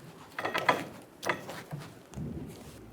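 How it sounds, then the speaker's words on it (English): A 15mm socket wrench ratchets loose a rear lower control arm bolt on a 2000-2007 Ford Focus, giving a few close, quiet bursts of clicking with short pauses between them. "Using a 15mm socket, we're going to remove the bolt."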